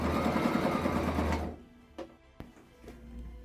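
A sewing machine stitches apron fabric in a fast, steady whir that runs close and loud for about a second and a half, then stops, leaving a few soft clicks and knocks.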